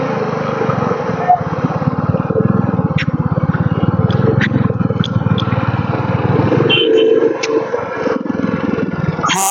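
Motorcycles ride in a group on a pilgrimage trip to Shirdi, their engines droning steadily and fairly loud with rushing wind, while voices come through now and then.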